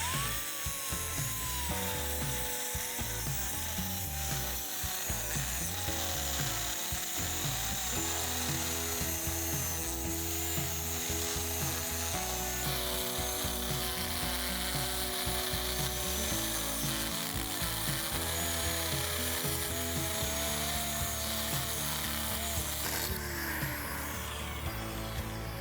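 A main rotor bearing is cut at a shop, giving a steady, loud, close grinding and whining cutting noise with shifting pitch that runs without pause and without talk.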